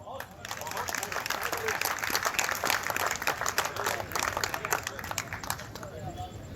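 An audience at a Hindi heroic-verse poetry recital (kavi sammelan) claps in a continuous, moderately faint wash of applause with some crowd murmur underneath.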